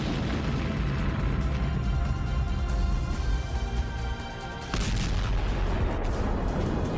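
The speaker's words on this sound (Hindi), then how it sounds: "अंदर लगी आग ने टैंक में रखे गोलों को भी एक्टिव कर दिया और फिर इसमें ऐसा धमाका हुआ" Stored ammunition inside a Russian tank detonates during the Russia–Ukraine war, producing a sustained, heavy roaring blast with crackling bursts, a brief dip, then a renewed burst that keeps rumbling loudly.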